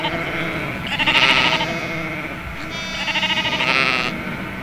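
Sheep bleating in a grazing field, two long wavering bleats one after the other, loud and close, with no voices.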